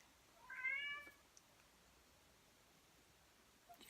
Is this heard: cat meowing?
yes